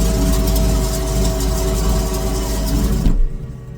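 A tractor engine drones steadily at close range while sowing beans with auto steering, a low, constant hum, then cuts down sharply near the end, leaving a quieter background.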